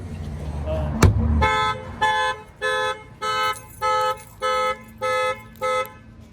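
A 2017 Mercedes-Benz C300 factory car alarm blares in regular repeating honks, about eight evenly spaced blasts after a sharp thump, loud and close.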